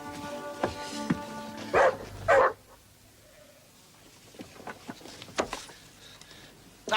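A dog in a scene from the vet series All Creatures Great and Small barks twice in loud, close bursts amid scuffling and faint rustle, then quieter noises follow.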